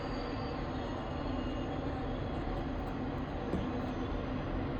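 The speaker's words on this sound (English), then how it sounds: "Can you hear the train?" Steady, dense rumble and clatter of a Burlington Northern freight train rolling past at a distance, unbroken for the whole stretch.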